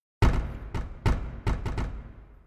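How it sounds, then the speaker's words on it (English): Car door sound effect in a VR music-making app, played as a string of six dull, heavy thumps at uneven intervals, each with a short resonant tail, moderately loud and with no voices. "Okay, car door."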